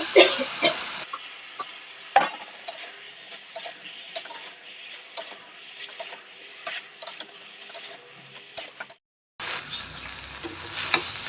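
Fried prawns cooking with jackfruit in a pan, a low steady sizzle under repeated scraping and clattering strokes of a spatula stirring, with a brief silent break near the end before it resumes.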